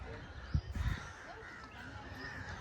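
Crows caw among other birds around the Mahabalipuram tiger caves, set amid palm trees near the sea, with a couple of louder calls standing out early over steady faint outdoor ambience.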